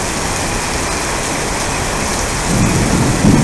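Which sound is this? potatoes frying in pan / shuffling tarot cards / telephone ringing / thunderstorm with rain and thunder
thunderstorm with rain and thunder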